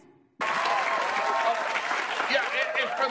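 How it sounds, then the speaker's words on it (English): A crowd at a rally for Cardi B bursts into loud, sustained applause and cheering that starts abruptly and carries on without a break, with voices mixed into the roar. "as the crowd cheered her on"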